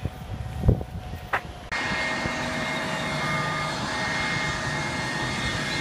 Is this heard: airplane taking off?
yes